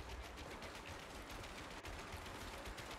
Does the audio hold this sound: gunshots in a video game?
yes